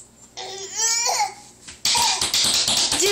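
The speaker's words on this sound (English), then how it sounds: "Just fake coughs." A baby's voice makes short forced fake coughs and babbling sounds, close and loud, with bursts separated by brief pauses and a brighter burst near the end.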